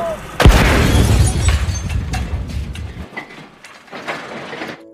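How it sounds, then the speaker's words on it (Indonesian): A sudden loud car bomb blast bursts out, followed by rumbling debris and clattering noise that slowly dies away. "JB kemudian tewas di dalam mobilnya oleh bom yang meledak"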